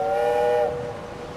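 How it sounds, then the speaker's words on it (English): A boat horn sound effect from the city-building game Tropico 6, a steady, tonal whistle much like a train horn. It holds clearly for about half a second, then drops away into a low background hum. "That sound effect? Just sounds like a train rather than a boat."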